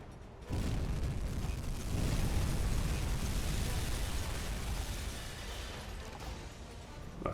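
Torpedo strikes on a ship in the U-boat game Uboat erupt into a heavy, deep explosion that bursts suddenly after a quiet start, then rumbles loudly and slowly fades over several seconds.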